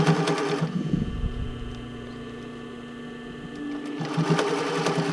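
An industrial sewing machine back stitching bra cups, running as a steady mechanical whir with a low motor hum for several seconds, quieter at the start and end.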